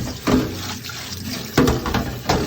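Cooked rice is strained in a kitchen sink, water pouring and splashing down the drain in three louder gushes with steady running water between them, close by with no talk.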